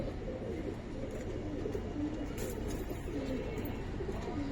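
Soft pigeon coos rise now and then from a dense, constant background hubbub, faint and fairly close, with no clear talking.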